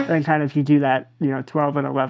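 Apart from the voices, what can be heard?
No everyday noise stands out behind the speech.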